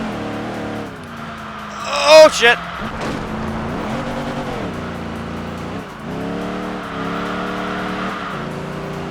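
Racing car engine revving and shifting in Enthusia Professional Racing, a steady engine drone with rising gear pulls and a brief loud tire screech, with someone talking and exclaiming over it.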